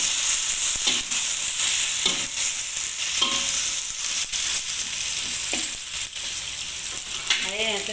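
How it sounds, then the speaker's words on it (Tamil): Anchovies and onions fry hard in a pan, a loud continuous sizzle with repeated scraping and stirring strokes from the spatula throughout, and clinks of the utensil near the end. "வெங்காயத்தை போடுங்க."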